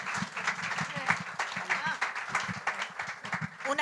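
A round-table audience at a science event applauds, with a patter of scattered hand claps running through the whole stretch while voices carry on close over it.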